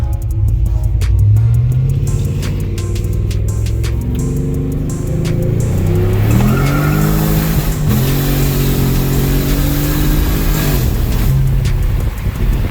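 A car with a loud, rumbling 3-inch pie-cut stainless exhaust accelerates steadily through the gears, engine note rising and dropping with each shift, heard from inside, continuous and loud.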